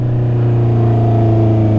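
A Honda CB650R motorcycle engine runs at steady high revs, a loud, even, buzzing drone heard up close from the rider's position without any talking.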